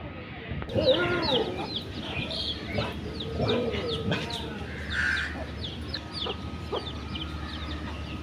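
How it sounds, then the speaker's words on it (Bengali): A black-and-white hen clucks near a village yard, with soft repeated clucks and chirpy calls over faint background voices and ambient noise. "মুরগিটা কি সুন্দর সাদা কালা"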